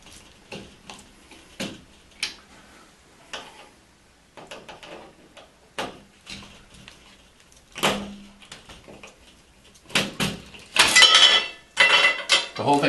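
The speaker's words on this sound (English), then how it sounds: "This one has 2 screws, and if I loosen those screws," Screws are loosened on the drip rail of a semi-frameless shower door, giving sparse metallic clicks and taps with short gaps, then a busier cluster of clinks and rattles near the end, all close up.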